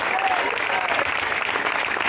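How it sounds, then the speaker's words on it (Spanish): A church congregation applauds loudly and continuously, a dense steady wash of many hands clapping close by, with voices mixed in the crowd. "Más fuerte el aplauso."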